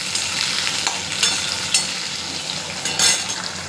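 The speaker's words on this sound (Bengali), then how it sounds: "পেঁপেটা একটু ভেজে নেব।" Papaya pieces with potato fry and sizzle in hot oil in a pan, a steady close crackle with brief stirring scrapes every second or so.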